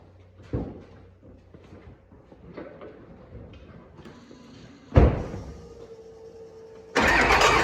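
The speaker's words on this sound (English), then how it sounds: "Let's get it fired up here." A few clicks and clunks come first, then a 24-valve Cummins diesel engine with a P-pump cranks briefly and roars to life loudly on first fire, running steadily at the end.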